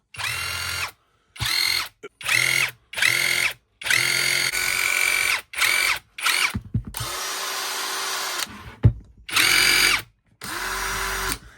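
A cordless impact driver whirs in a series of loud, close bursts, some short and some held for a couple of seconds, with brief pauses between.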